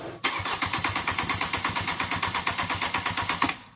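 A Chevy Trax engine cranks steadily with a fast, even starter rhythm of about twenty pulses, loud and close, with no voices.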